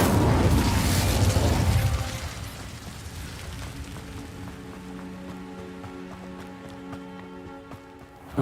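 An Incendio fire spell cast in Hogwarts Legacy bursts in a loud roaring whoosh of flame for about two seconds, then fades into a lingering magical hum with a small pop at the end.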